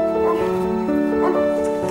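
A dog barks and whimpers in a tonal, yelping way in a French film scene, the cries repeating over two seconds amid a sustained musical drone, with no talk.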